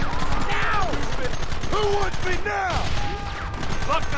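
Gunfire in the Western video game Red Dead Redemption, with rapid repeated shots crackling over dense, loud game noise while someone speaks over the action.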